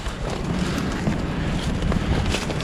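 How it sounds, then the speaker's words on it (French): Wind gusts outside a cave, the Grotte des Trois Jean, buffeting the microphone in a dense, rough roar at a steady loud level with no talk. "le vent s'est levé, il fait frais"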